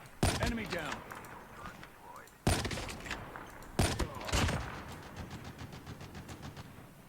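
Bursts of gunfire in the Call of Duty Mobile shooter game, three sharp volleys of rapid shots spaced a couple of seconds apart, with fainter follow-up fire and talk over it.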